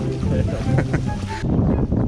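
Wind gusts buffet the microphone beside a fishing pond stocked with giant barramundi, a steady low rumble under the whole clip with a brief lull partway through, and voices or motor noise mixing in.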